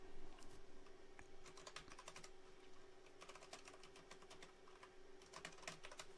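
Fingers type code on a computer keyboard in a quick, steady patter of soft key clicks with short pauses, faint and close, alone without talk.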